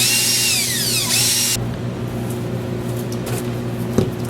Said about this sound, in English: So drill a bunch of holes in here.